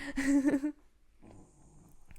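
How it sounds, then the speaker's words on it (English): A dog gives a short, close grumbling vocalization, loud and breathy, then falls quiet with faint low rustling afterward. "My dog has stuff to say."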